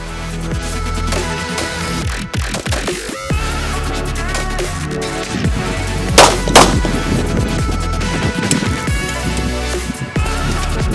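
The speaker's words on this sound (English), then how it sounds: "This will be her last round at the firing line." Sharp gunshots crack over a busy, loud background at a shooting range firing line during a tactical games athlete camp, with one prominent shot standing out near the middle.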